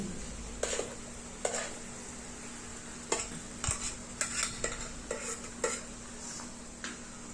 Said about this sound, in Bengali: রসুনটা ভাজা হয়ে গিয়েছে এখন যে কাঁচা মিষ্টি ব্লেন্ডটা করে রাখছিলাম সেগুলো দিয়ে দিচ্ছি